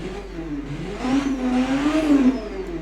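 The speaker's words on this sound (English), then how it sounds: "this is what this engine sounds like for this car" A car engine in the game Automation: The Car Company Tycoon revs up and holds a high, rising whine, then eases slightly; a steady synthetic drone with no talking.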